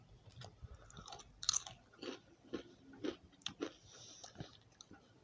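Doritos Sweet BBQ Tang corn chips are bitten and chewed up close, with irregular crisp crunches and softer mastication sounds spaced through a quiet background, without talk.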